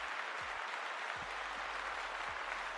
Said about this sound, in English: Let's give Dice a good old round of applause.